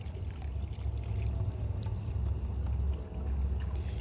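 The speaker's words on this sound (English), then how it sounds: "we're just gonna basically fill this one up with water" Water pours steadily into a container for making compost tea, with a continuous low gurgling rush, close and fairly quiet, without pause.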